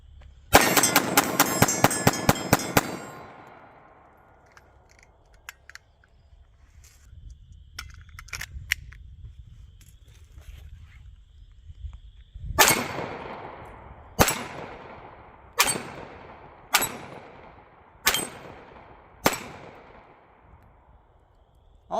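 A Ruger LCP Max .380 pistol fires at targets outdoors at 10 yards: a rapid string of loud cracks opens, then after a pause six more sharp shots follow at a slower, even pace.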